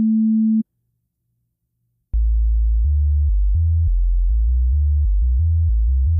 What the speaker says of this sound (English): using a sine wave at a lower octave like this